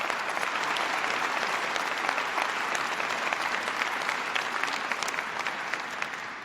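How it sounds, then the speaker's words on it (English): An audience at a political speech gives Max Baucus of Montana a steady, sustained round of applause, a dense patter of many hands at moderate distance. "Please give Max Baucus of Montana a big round of applause."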